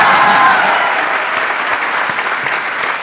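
Loud, close audience applause at a comedy show, dense clapping that is strongest at the start and then eases slightly while staying continuous.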